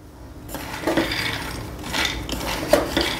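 Dry peanuts roasting in a hot kadhai on a gas stove, heard as close, repeated scraping and rattling of nuts and a stirring spoon against the metal pan in an irregular rhythm, with no talk.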